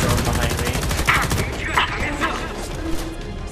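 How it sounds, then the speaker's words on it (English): A grenade explodes during a Homefront The Revolution firefight, a loud burst among dense rapid gunfire with a brief mid-clip blast, all mixed under a player's voice. "He's got a grenade thrown behind me."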